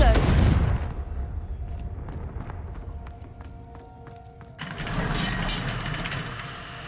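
A Confringo blasting spell goes off in the video game Hogwarts Legacy, opening with a loud burst that fades into a quieter stretch of clicking mechanical ticks, then a second swell of noisy rumble.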